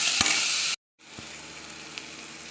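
Onion, green chilli, carrot and potato sizzle loudly in hot oil with a steady, dense hiss. The frying cuts out abruptly for a quarter second, then resumes slightly quieter with a few small pops.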